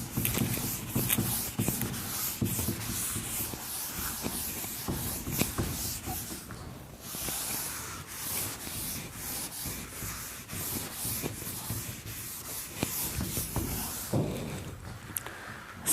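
A blackboard being erased during a Class XII maths lesson on matrices: continuous brisk rubbing strokes with a rapid scratchy back-and-forth rhythm, close and moderately loud, with no talking.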